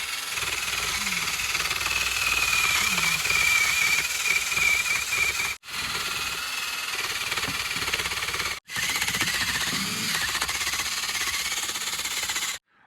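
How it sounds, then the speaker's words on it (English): A cordless drill with a wire brush attachment grinds against log cabin logs on a Minnesota homestead. It runs on a weak battery in three sustained bursts with brief stops between them, giving a harsh, raspy whir. "I'll show you what it looks like with that wire brush attachment"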